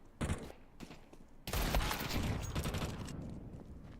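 Desert Eagle pistols firing in a Counter-Strike esports match, a few sharp shots at first, then a dense loud burst of overlapping gunfire and game effects continuing steadily.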